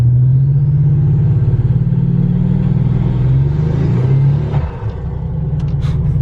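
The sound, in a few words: car engine revving during a little burnout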